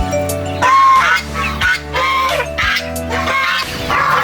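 Aggressive goslings honk in a backyard farm, giving loud, harsh, repeated calls close by in a rapid sequence with no talking.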